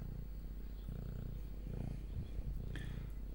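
A cat purrs steadily and close, a low rhythmic rumble pulsing in regular breaths, with a brief soft click near the end.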